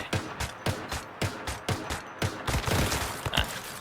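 An ice gun firing in the Once Human video game, a steady series of about a dozen sharp, evenly spaced shots with a mechanical edge, picking up pace toward the end.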